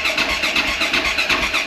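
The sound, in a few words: car engine starting after opening fuel and choke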